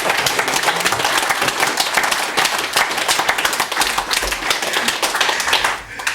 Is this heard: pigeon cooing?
no